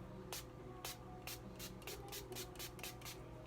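Makeup fixing spray mists out in a quick run of about eight short, soft hissing spritzes, evenly spaced over a steady low background hum.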